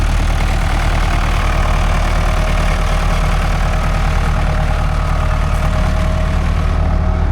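A two-wheel-drive farm tractor fitted with narrow wheels runs steadily in mud on a flooded farm, a loud, continuous low engine drone with a faint rhythmic pulse, no talk.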